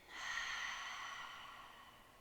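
One long, soft exhale through the mouth during prenatal yoga, a breathy sigh that fades out slowly over about two seconds, close and quiet.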